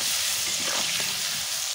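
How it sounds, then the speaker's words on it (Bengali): Potatoes seasoned with salt and turmeric fry in a pan, giving a loud, steady sizzle and hiss throughout with no talk. "ভালো করে মশলা করে আলুগুলো ভেজে নিচ্ছি।"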